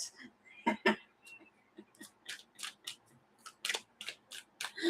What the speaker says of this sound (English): I've been shuffling these cards too.